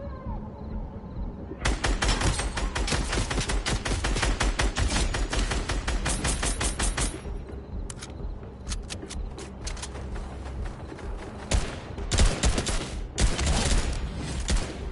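Rapid automatic gunfire in Fortnite rattles in long, dense bursts, then breaks into scattered shots and shorter volleys. The shots are loud and dominate throughout.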